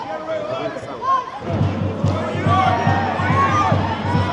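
Away supporters' section at a football match in Tallinn, chanting and cheering as a steady crowd roar, with rhythmic drum beats driving underneath from about the midpoint onward.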